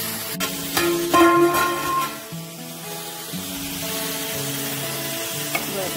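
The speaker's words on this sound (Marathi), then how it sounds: "वरणाला फोडणी द्यायचं राहिले." Spices sizzle and crackle in hot oil as tempering for dal, with a steady hiss, close by, along with a few clinks and tonal background sounds.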